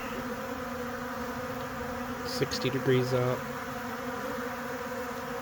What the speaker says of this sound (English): Bees are busy.